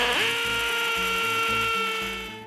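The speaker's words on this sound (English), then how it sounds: "I'm going to go ahead and drill this hole 2 inches deep with my 1/2 inch masonry bit" A hammer drill in hammer mode driving a 1/2 inch masonry bit into brick, two inches deep, gives a loud, steady whine and rapid pounding chatter that runs without a break, then eases slightly at the end.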